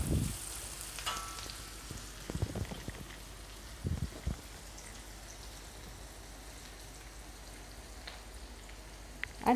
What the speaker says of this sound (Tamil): முதல்ல வெங்காயத்தை போட்டு நல்லா சொத்தி பண்ணிக்கலாம்